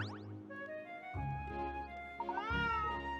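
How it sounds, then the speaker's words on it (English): A cat meows repeatedly in Layton's Mystery Journey, drawn-out, wavering cries, close and fairly clear, with a longer rising yowl near the end. "That's some other cat."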